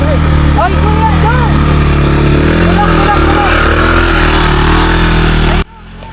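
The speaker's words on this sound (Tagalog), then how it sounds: "Sinubukan din talaga kung kaya ng motor, pero hindi talaga kaya." Loud, close motorcycle engine straining on a steep uphill trail in Minalungao National Park, labouring with wavering revs that rise and fall, then cutting off abruptly near the end.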